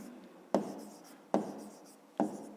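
A pen strikes paper three times at a steady pace, each tap followed by a short scratchy stroke, as a math exercise is written down in a quiet room.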